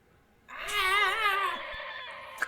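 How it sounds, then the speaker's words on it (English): A cat yowls loudly and close by in a long, wavering, drawn-out cry lasting about two seconds, with a brief knock at the end. "Fucking stupid freaking cat."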